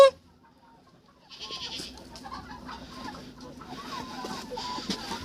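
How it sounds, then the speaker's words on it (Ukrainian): A goat bleats among clucking hens and other farm animal noises, busy and fairly close, after a brief quiet start. "що це за коза тут уже бекає?"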